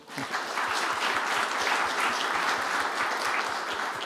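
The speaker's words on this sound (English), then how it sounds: "Once more, a round of applause for our speaker" A conference audience at Space Resources Week gives a speaker a round of applause, dense and even clapping that holds steady and fairly loud for several seconds.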